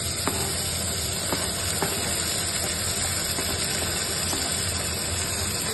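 Tomatoes hit a hot pan for Kokani val sabji, a steady bright hiss and sizzle running throughout, with faint light taps and clicks of utensils now and then, close up.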